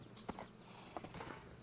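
Horse hooves clip-clopping in Minecraft, a few soft, sparse steps heard faintly over a quiet background.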